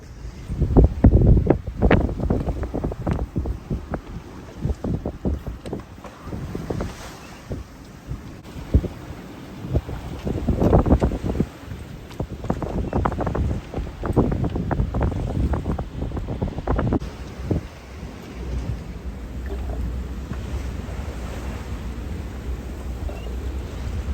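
Steady wind of around 12 to 14 knots buffeting a small sailboat at sea crossing the Bay of Biscay, a roaring, gusting rush with microphone buffeting that surges and eases throughout.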